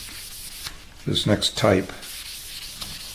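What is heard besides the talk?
hand sanding a guitar finish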